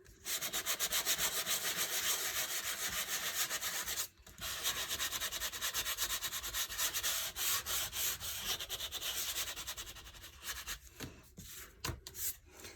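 A sanding block rubs briskly over embossed foil on a folded-book craft card in rapid back-and-forth strokes, close and steady, pausing briefly once and then breaking into shorter scrubs at the end.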